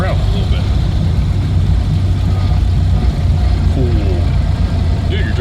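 A 1930 car with a manual transmission pulls away in first gear, its engine a loud, steady low rumble close by while people talk over it.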